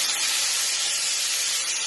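Curry leaves hitting hot oil in a pan for anchovy fry, giving a loud, continuous hissing sizzle with no talk.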